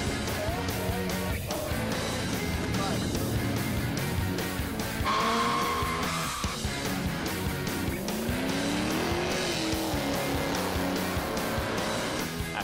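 Rebuilt Talon cars racing on the quarter-mile drag strip at Toronto Motorsports Park, loud roaring engines with rising revs and squealing tires, continuous and close, with crowd noise and some voices underneath.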